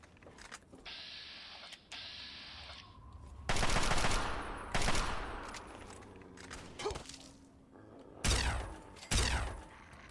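A plasma rifle fires in the video game Fallout 3 in sharp, loud bursts with gaps between them. Clusters of shots land near the end, over faint game ambience, with no talking.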